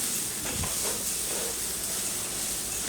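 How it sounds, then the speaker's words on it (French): Rice stir-fried in a pan gives off a soft, steady sizzling hiss that stays fairly quiet and even throughout, with a brief low stirring scrape near the start. "Donc ici, on va faire sauter un peu le riz."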